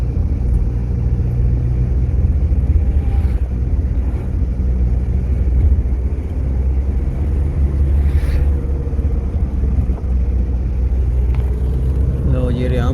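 Road traffic crossing the Hariyam bridge, a steady loud rumble of passing cars and vehicles with occasional engine swells, continuous throughout with someone talking over it.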